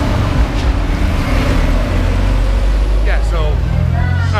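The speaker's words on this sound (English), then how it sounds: "It's very loud out here. Here, I'll show you why it's so loud. Look at all this traffic." Loud outdoor road traffic, a continuous heavy rumble of passing cars and trucks that stays close and dominant, with a few faint higher whines near the end.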